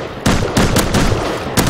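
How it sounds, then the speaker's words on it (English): Gunfire in the video game Rust, several sharp loud shots in quick bursts, close by, with no talking over them. "Heard like three shots, I think."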